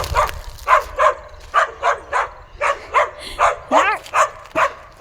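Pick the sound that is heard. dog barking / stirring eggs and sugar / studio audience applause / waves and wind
dog barking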